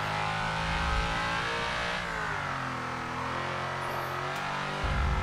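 A racing car engine in Forza Motorsport 7 revs hard and steadily, with the pitch dipping and climbing through gear changes over several seconds, loud and close with no talk.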